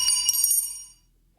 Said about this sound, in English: Then we have a wrench, which sounds like this.